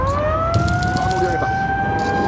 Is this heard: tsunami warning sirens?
yes